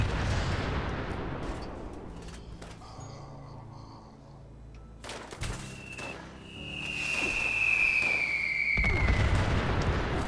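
Overkill two-shot mini nuke blasts in the video game Fallout 76 roll out as deep booming explosions with long rumbling tails and a whistling whine, loud and sustained throughout, with no speech.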